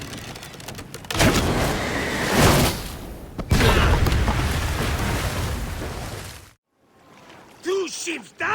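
Warships exploding in the Assassin's Creed Origins video game, deep rumbling booms and crackling blasts in two heavy bursts, followed by a sudden drop to quieter water sounds with swooping tones.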